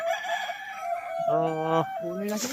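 Kadaknath chickens at a farm: a rooster gives a loud, drawn-out crow close by, with more calling and clucking from the flock around it.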